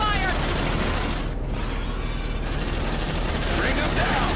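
Rapid gunfire rattles nonstop in the sci-fi combat game Aliens: Dark Descent, loud and dense, with a brief dip midway before the fusillade resumes at full intensity.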